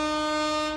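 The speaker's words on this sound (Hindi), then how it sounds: "ट्रेन जो है पूरी परीक्षा ले रही है, हॉर्न दे रही है" Train horn sounding in one brief, loud, steady blast with a rich harmonic tone, close by and holding level before fading slightly at the end.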